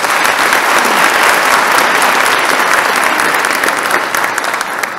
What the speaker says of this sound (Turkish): Bu kez de biz size alkış veriyoruz.